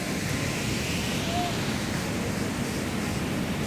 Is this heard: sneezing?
no